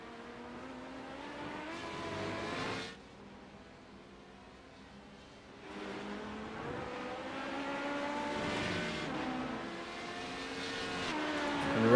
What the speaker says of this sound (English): Check in with our LMP2 class as they come to the line for the first time.